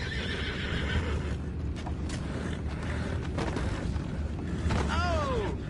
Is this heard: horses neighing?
yes